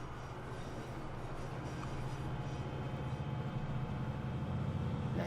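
ScotRail train running in the video game Transport Fever 2, a steady low rumble of rolling wheels and engine that builds gradually, with no talk.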